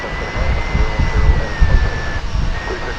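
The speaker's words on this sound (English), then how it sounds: "watch this Qatar, I believe it's a 777 come in from Doha" A Qatar Airways Boeing 777 arriving from Doha at DFW Airport, heard as a steady, moderately loud jet roar with a thin high whine, and low wind-like rumble throughout.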